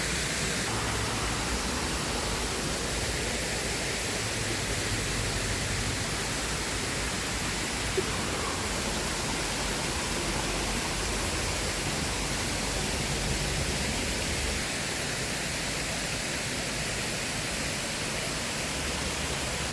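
Waterfall beside a cafe in Kalasin, Thailand, a continuous loud, even rush of falling water that stays steady throughout without voices.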